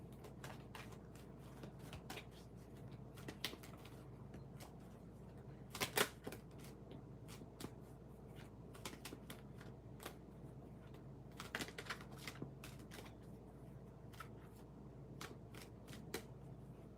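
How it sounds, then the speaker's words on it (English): Tarot cards being shuffled by hand, a steady run of soft riffling and flicking bursts repeating over and over, close and fairly quiet, with no talking. "Gemma, let me just shuffle the other deck because I would like to pull from 2 different decks for you."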